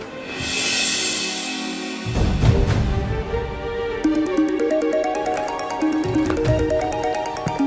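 A phone ringtone plays loud and steady: a repeating electronic melody of stepped bright tones that starts partway through, after a brief burst of noise, in an indoor domestic scene.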